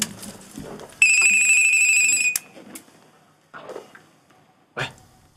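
A mobile phone ringtone plays a bright, steady electronic tone for about a second and a half, surrounded by scattered soft voices and brief shuffling noises.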